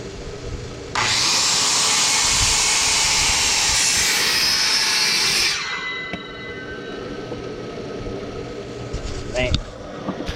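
A saw cuts through wood outdoors, a loud steady buzzing stretch of roughly four seconds that stops abruptly, followed by quieter handling noises and faint background.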